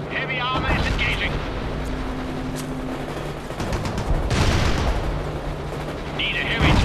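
Heavy armored tanks open fire in the video game World in Conflict, with dense, rumbling bursts of cannon and gunfire booming continuously, swelling louder near the end, while radio-style voices talk over the battle.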